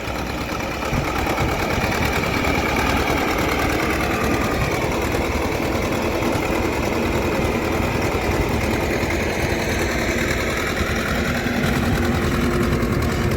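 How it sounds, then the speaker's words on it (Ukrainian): A small tractor's engine runs steadily during wet autumn ploughing, a loud, close, continuous chugging drone with an even mechanical rattle that holds for over ten seconds without talk. "Мій тракторець."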